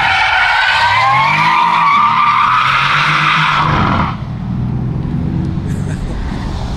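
A rear-wheel-drive Mercedes-Benz C63S AMG skids in a racing video game. Loud, wavering tire squeal runs for about four seconds over a steady engine and road roar, then drops to a lower rumble.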